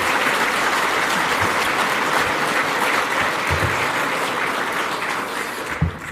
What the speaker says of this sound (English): Let's give a round of applause for the Minister.